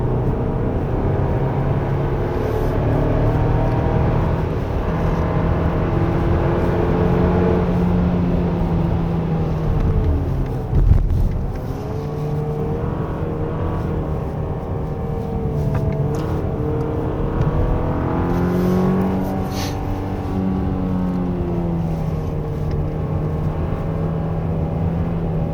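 A 2025 Hyundai Palisade with the 2.5 turbo gasoline engine and all-wheel drive accelerates at full throttle on an open winding road, giving a sustained rising engine drone heard from inside the cabin, steady and fairly loud, with no talking.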